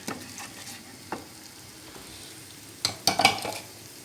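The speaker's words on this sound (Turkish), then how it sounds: "Şöyle güzelce salçamızı yedirelim." Tomato paste is stirred into food frying in a pan, a low sizzle under a few clattering spoon scrapes that cluster near the end.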